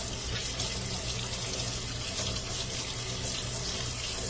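Warm water runs steadily from a kitchen tap into a sink, a constant close, moderately loud splashing rush with no pauses and no talk.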